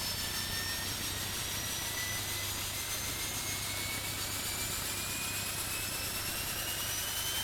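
Steady, loud aircraft engine drone from a single-propeller Pilatus PC-12 in the Tower! Simulator 3 game at Tallahassee International Airport, a continuous broadband roar with rising whine tones and no pauses.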